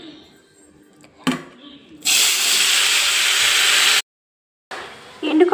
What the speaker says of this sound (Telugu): పచ్చిమిర్చి, ఉల్లిపాయలు, కొత్తిమీర, కరివేపాకండి నూనెలో వేసుకుందాం.